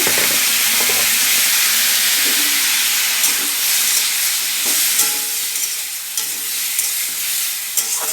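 Boiled mango pieces fry in oil with panch phoron in a kadai, giving a loud, continuous sizzling hiss broken by faint stirring clatters.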